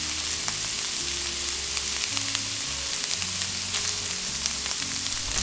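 Cold rice tossed with canned corn and green peas sizzling in a hot pan, a steady loud frying hiss with faint scraping and stirring, close up and without talk.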